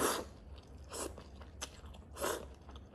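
Someone chews cold sea snail noodles, with a few soft, wet crunching bites spaced about a second apart, close to the ear and fairly quiet against low background noise.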